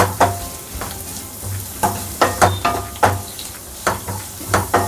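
Onion and green chilli stirred in hot oil for a Kerala curd curry, a close crackling sizzle punctuated by regular, sharp scrapes and clinks of the spoon against the pan.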